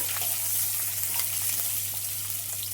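Kabuli chickpea usli fries in a pan as asafoetida powder is stirred in, with chopped curry leaves on hand; a steady, close oil sizzle runs throughout with faint stirring and no talk.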